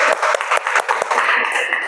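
A classroom of students applauds a student group, with dense, steady clapping throughout that thins briefly near the end.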